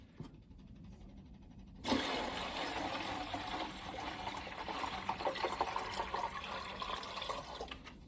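Water pours from a 2-gallon bucket onto orchids, starting abruptly as a steady, close splashing gush that continues unbroken to the end.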